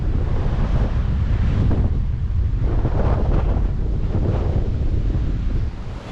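Strong wind buffets the microphone on an exposed mountain cliff top during a hike, a loud, continuous roar with gusting surges that eases slightly at the end.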